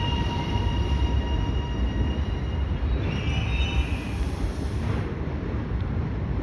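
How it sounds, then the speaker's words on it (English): A Sunbury metro train pulls into West Footscray station with a steady low rumble of wheels on track, wind buffeting the microphone and a faint squeal of wheels partway through. "We will wait for this Sunbury train to get in and arrive."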